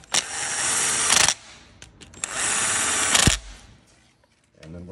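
A power tool snugs up bolts on a GMC Acadia 3.6L V6 engine during timing chain replacement, running in two loud bursts of about a second each, separated by a short pause.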